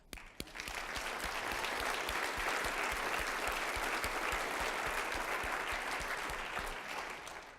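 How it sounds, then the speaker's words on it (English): An audience applauds university presidents at a celebration event, steady sustained clapping from a large crowd that swells quickly and holds for several seconds before tapering off. "Let's give them a round of applause."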